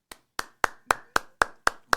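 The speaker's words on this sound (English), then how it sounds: "you get one clap" Eight sharp, evenly spaced hand claps, close and dry, each a crisp isolated crack with a short decay and silence between.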